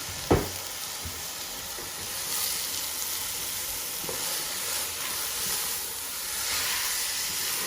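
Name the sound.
onions frying and being stirred in a pan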